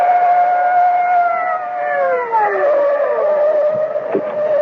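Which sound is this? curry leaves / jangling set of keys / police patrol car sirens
police patrol car sirens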